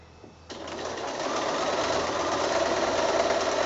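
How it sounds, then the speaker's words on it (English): A sewing machine stitches down quilt binding near its fold, starting after a brief pause and then running at a steady, even whirr, close and uninterrupted. "So I'm just stitching down near the fold of the binding."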